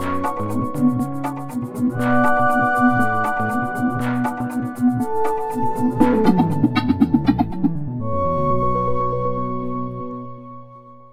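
Interactive game music intro flowing into a loop, built with FMOD and Unity: layered melodic synth and instrument parts with a busy rhythmic passage midway before settling into sustained chords that fade out, no speech.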